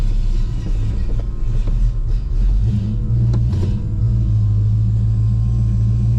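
A cold carbureted car engine rumbles steadily at close range as the car rolls out over snow, its low drone holding fairly even with a slight rise in the middle.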